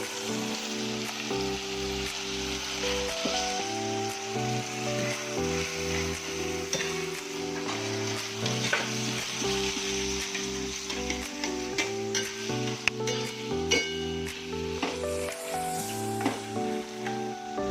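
Carrots tossed into onion puree in a hot pan for street-style Schezwan fried rice make a steady, close sizzle with stirring scrapes throughout, under prominent background music and with no talking.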